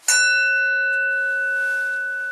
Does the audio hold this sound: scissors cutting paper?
no